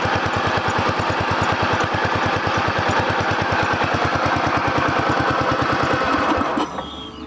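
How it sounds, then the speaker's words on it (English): The engine of a Toro TimeCutter riding lawn mower runs close and loud after a faulty ignition coil and key switch were replaced, firing in a fast even chug that cuts out abruptly near the end. "I'm going to run this around now"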